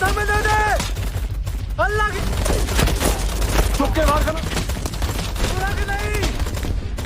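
Bursts of gunfire crackle through a war film battle scene between Indian and Pakistani troops, with rapid volleys and shots repeating over several seconds amid shouting voices and a busy background.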